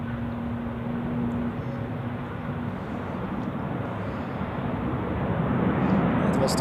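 Airliner passing over Zurich Airport on a flight from Palma, a steady broadband engine roar that holds level and swells slightly toward the end, with no talk.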